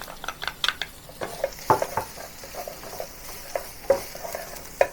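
Ginger and chopped garlic frying in a clay pot, a soft sizzle under repeated stirring scrapes and light utensil clinks, close and without talk.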